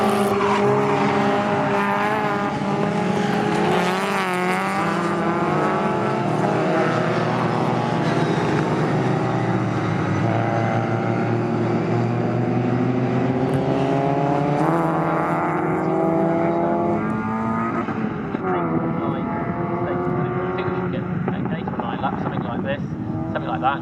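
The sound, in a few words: MG Metro race cars racing at Snetterton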